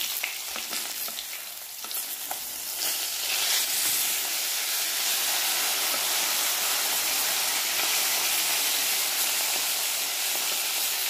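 Fish pieces frying in hot oil for a fish masala, a loud, steady sizzle and hiss that swells after a few seconds and holds throughout, close up and with no talking.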